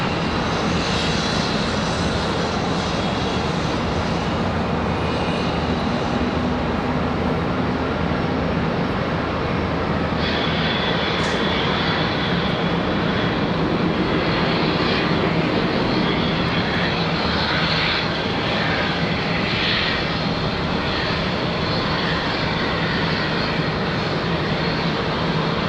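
A Delta airliner roars past at Charlotte Douglas International Airport, its jet engines a loud, steady broadband rumble that swells slightly midway and holds throughout, with no voices.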